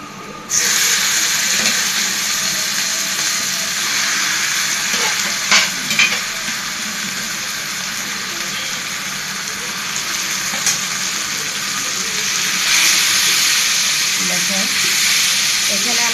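Vegetables dropped one at a time into a hot frying pan, a loud continuous sizzle with brief stirring knocks and a fresh burst of frying near the end, no talking.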